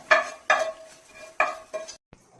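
Pal kappa, tapioca cooked in milk, stirred in a pan: four distinct scraping strokes of a spoon against the metal with short pauses between, then a light tap, close and clear with no talk.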